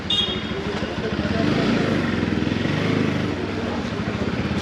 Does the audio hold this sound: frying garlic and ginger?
no